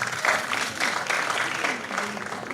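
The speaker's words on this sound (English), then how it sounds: "Let's give her a round of applause." Audience round of applause at an academia-to-industry career event, steady dense clapping from a crowd filling the whole stretch, with faint voices underneath.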